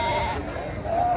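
Lambs bleat at a Friday livestock market in Boysun district, Uzbekistan, their calls rising over steady crowd chatter and people talking nearby.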